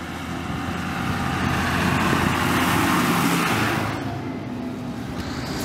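A big tractor rumbles past at a Dutch farmers' protest in The Hague, a loud, broad engine roar swelling over about two seconds and then easing off as it moves away, with crowd noise behind it.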